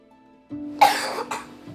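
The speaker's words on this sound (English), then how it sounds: "They're coughing." Two harsh, broadband coughs from a person with cystic fibrosis, close to the listener, the first louder, the second shorter, over a low steady hum.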